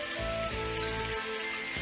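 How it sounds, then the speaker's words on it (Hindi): Rain beginning to fall in a Doraemon cartoon scene, heard as a soft steady hiss of drops alongside faint tonal music, brief and continuous. "बारिश शुरू हो गई।"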